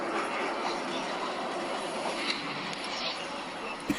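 A passenger train pulls away from Norwich bound for London, a steady broad rumble of wheels and carriages throughout with a couple of brief clanks near the end, no voices.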